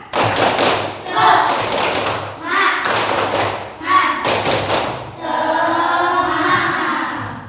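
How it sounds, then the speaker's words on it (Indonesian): Schoolchildren perform the rhythmic 'tepuk semangat' spirit clap, bursts of loud thudding claps in a patterned beat, broken by gaps where children and a teacher speak or chant. "Tepuk semangat dulu. Tepuk semangat."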